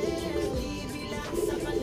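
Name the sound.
homing pigeons arriving at the loft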